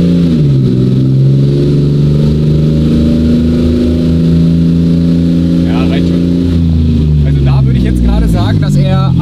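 A Toyota 2JZ-engined car pulls away from a traffic light and accelerates through the gears, its loud, close engine note rising and dropping at each shift, with people talking over it toward the end.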